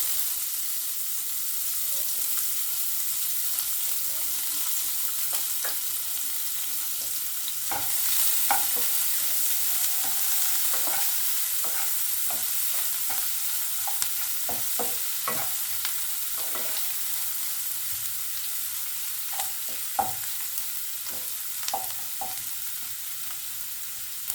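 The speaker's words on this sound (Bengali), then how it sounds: "পেঁয়াজগুলো একটু হালকা করে ভেজে নেব।" Chopped onions frying in oil with dried chillies, a steady close sizzle broken by repeated scraping and stirring clicks of a spatula.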